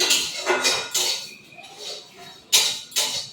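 Whole spices are stirred in a hot, dry pan, producing a handful of sharp scraping and clinking strokes, close and irregular, with short quiet gaps between them.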